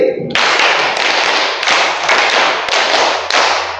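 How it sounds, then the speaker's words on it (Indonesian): A class in a maths teacher-training lesson claps together in a counted rhythm, producing loud, close bursts of group clapping in a regular pattern of separate beats. "tepuk 4, tepuk 5, tepuk 5 2 kali."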